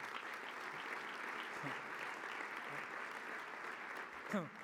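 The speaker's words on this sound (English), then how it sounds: "I want to give a big applause to Karen Kaplan." Steady applause from a dinner crowd, a broad even wash of clapping that holds for several seconds with a brief bump near the end.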